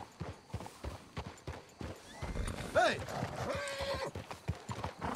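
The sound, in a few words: horses hooves clip-clopping in Red Dead Redemption 2 video game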